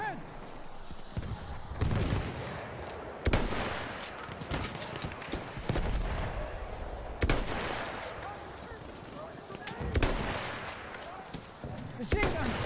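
Battlefield 1 machine gun fire sounds as repeated bursts and loud booming shots over busy battle noise, while a voice talks over the action.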